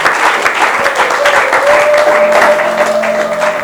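A church congregation applauds in a steady, dense wash of clapping throughout, with a sustained tone from an instrument or voice rising beneath it partway through.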